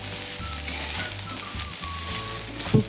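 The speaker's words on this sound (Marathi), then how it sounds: "कोथिंबीर छान भाजून घ्यायची आहे तेलात." Chopped coriander fries in hot oil, a steady close sizzle running without a break and with no voices over it.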